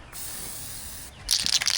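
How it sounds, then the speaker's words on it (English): Aerosol spray cans hiss in a steady jet for about a second, then stop briefly and burst again in short, rougher sprays close by. "Spray those cans of Petey, spray them really good."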